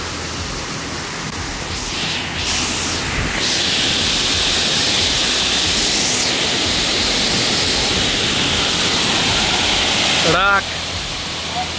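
Waterfall at Ghonsari village in the Konkan region, a loud steady roar of falling water filling the whole stretch, with a brief voice cutting in near the end.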